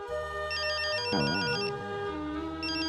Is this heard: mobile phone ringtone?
yes